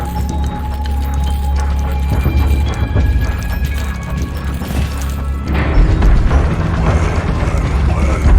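Weapon reload in Resident Evil 4 amid gameplay, metallic clicks, ratcheting mechanism sounds and heavy thuds over a low droning game soundtrack, loud and close.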